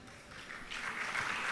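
An audience applauding during a spiritual discourse, a short burst of clapping that swells from soft to fuller, no speech.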